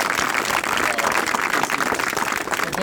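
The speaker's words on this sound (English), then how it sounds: "So another big round of applause for Hank" A crowd at an outdoor trail groundbreaking ceremony claps steadily for about three seconds, a dense, even wash of applause with no pauses.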